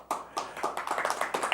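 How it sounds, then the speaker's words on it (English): Audience applause, a small group clapping briefly, fairly faint, with a quick patter of individual claps and no cheering. "I actually got applause for a change."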